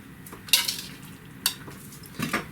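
Bulgogi meat in a gochujang marinade hits a hot pan for a sandwich, giving a few sharp, close clatters of utensil and pan over a low sizzle, with no talking.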